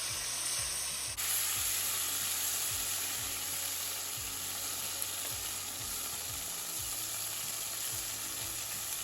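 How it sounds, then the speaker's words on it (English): Butter melting in a pan hisses with a steady, fairly faint sizzle that runs unbroken throughout, with a brief shift in tone near the start and low background hum underneath. "over in a pan, I'm going to melt a couple tablespoons of butter"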